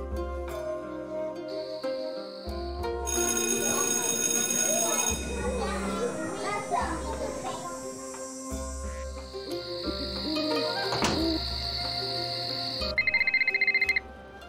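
A telephone rings in the Nancy Drew game Shadow at the Water's Edge, a steady electronic ring tone sounding over background music and ambient game sounds, with a brief faster trill near the end.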